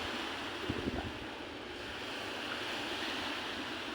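Sea waves wash in a steady, hissing rush, broad and continuous, with a faint low rumble underneath and no voices.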